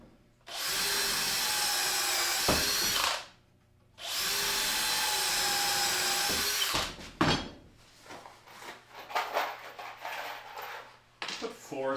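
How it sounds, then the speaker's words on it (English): A power drill drives screws into a wooden circular saw jig in two loud sustained whirring bursts, followed by softer clatter and handling noises. "Put 4 screws in."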